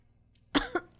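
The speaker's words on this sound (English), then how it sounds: "Cough." Three sharp human coughs in quick succession, close and clear against a quiet background, with the second slightly weaker than the first and last.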